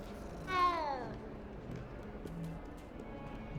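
A cat in the video game Hogwarts Legacy lets out a single rising-then-falling meow near the start, followed by quieter ambient game noise and faint background sounds.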